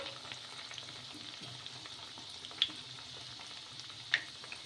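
Small pieces of coarse dough batter fry in hot oil with a faint, steady sizzle and a couple of soft clicks.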